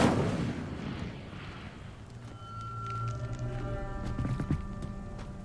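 The Incendio fire spell in Hogwarts Legacy on PS5 fires off as a loud whooshing burst, then fades into a low rumble and ringing tonal game effects, with further soft impacts near the end.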